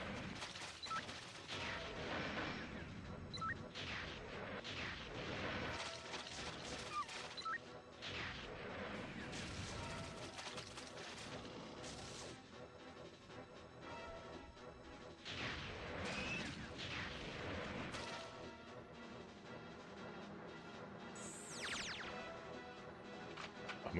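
Rocket explosions in the N64 game Jet Force Gemini (1999), dense crashing blasts and bursts packed together over steady game noise, loud and nearly continuous with a few brief lulls.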